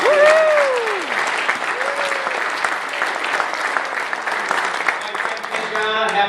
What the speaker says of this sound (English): All right, so let's one more round of applause.